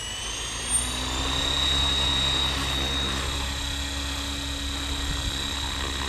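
An RC helicopter with a Spektrum AR7210BX flybarless system spooling up for a test hover, a steady loud whine and whir of the rotor and motor with a thin high tone, continuous and close.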